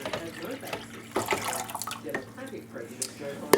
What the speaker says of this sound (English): I'll fill the water container up with that